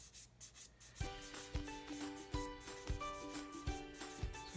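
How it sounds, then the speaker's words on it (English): Sandpaper rubs by hand across the hull of a Takom 1/35 scale MkIV tank model, a soft, rhythmic back-and-forth scratching with regular strokes, close and quiet. "I want to be able to sand the whole area"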